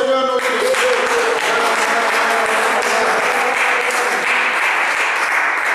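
A church congregation at a pastor's seminary in Germany breaks into loud, dense applause that continues steadily throughout, with a few voices mixed in at the start.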